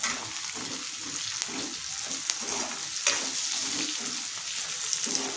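Curry leaves and green chillies sizzle and crackle in hot oil in a pan for a dried fish and cucumber curry, the frying loud and continuous with occasional stirring scrapes and sharp pops.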